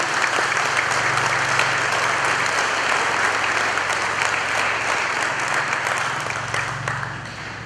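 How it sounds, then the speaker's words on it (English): An audience at an Independence Day ceremony gives the youth a sustained round of applause, dense and even clapping that fills the space before slowly tapering off. "we give them a round of applause"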